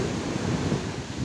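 Big ocean waves and strong wind on a quiet beach at Pantai Damas, Trenggalek, a loud continuous roar of surf and wind buffeting the microphone, with no voices.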